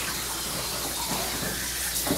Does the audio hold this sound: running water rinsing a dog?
yes